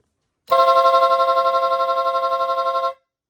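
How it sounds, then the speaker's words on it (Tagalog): A motorcycle rapid horn tested after wiring, blaring one loud continuous buzzing tone for about two and a half seconds with a fast pulsing flutter, starting and stopping abruptly. "Rapid horn."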